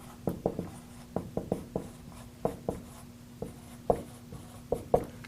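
A pen handwriting on paper, with quick scratchy strokes in irregular bursts, some close together and some spaced by short pauses, close and fairly quiet with no talking.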